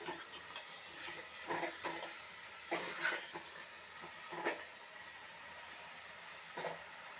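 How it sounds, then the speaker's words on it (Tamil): Chicken curry ingredients sautéing in a pan with homemade chilli powder, giving a steady sizzle and frying hiss broken by several brief stirring scrapes, moderately close and with no voices. "2 நிமிஷம் வதக்கணும்."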